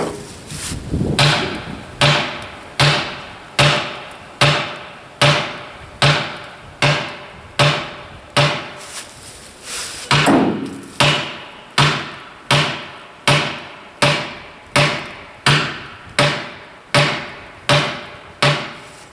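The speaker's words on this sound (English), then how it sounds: "Now I'm hitting the case next to the battery, not right on the battery, but in a free spot" A hammer strikes the case of a forklift battery beside the cells, loud, sharp blows repeating in a steady rhythm of over two dozen hits with a brief pause midway, and no talking.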